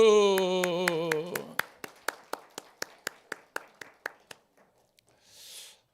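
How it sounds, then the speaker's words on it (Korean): Church congregation at a Sunday service clapping in a steady, evenly spaced rhythm. A sung voice briefly overlaps at the start, then the claps carry on alone, slow down slightly and fade out. "박수"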